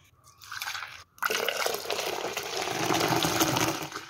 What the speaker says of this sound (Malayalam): ഇനി നമുക്ക് ഇതിലോട്ട് ബാക്കി വെള്ളം ചേർത്ത് കൊടുക്കാം